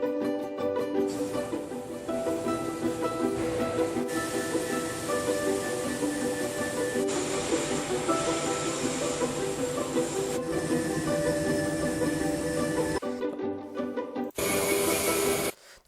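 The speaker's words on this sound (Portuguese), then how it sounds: "Uma serra de fita." A large band saw cuts through a metal sample with cutting fluid, a steady rasping, hissing whine that stays close and continuous, with brief changes in tone before the machine stops near the end.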